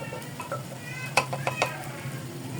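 Curry paste going into hot ghee in a clay pot, a soft close sizzle with a few sharp clacks and scrapes of a spoon against the pot.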